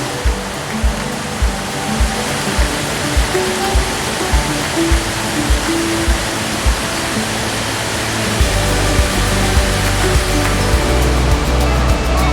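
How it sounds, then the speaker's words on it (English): Godafoss waterfall in Iceland pours over a wide curved edge about 100 feet across and drops 40 feet into a pool, making a steady broadband rush with regular low thumps, likely wind buffeting, that grows fuller near the end. "Godafoss, or waterfall of the gods, cascades over a curved edge spanning approximately 100 feet in width and falling 40 feet into a"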